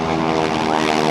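A polished North American T-6 propeller trainer roars past at an air show, a loud, continuous buzzing drone with steady harmonic engine tones filling the whole clip.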